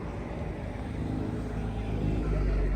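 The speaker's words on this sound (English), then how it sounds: "those Mustangs, they make so much noise, but they're barely moving." Ford Mustangs creeping along at low speed give off a distant, continuous low rumble of engines and road noise, faint overall and swelling slightly toward the end.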